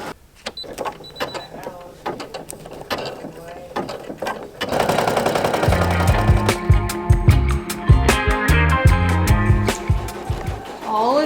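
Embroidery machines running at a home workshop, giving a steady, rapid mechanical clatter and whirring that grows louder and denser partway through, with voices now and then.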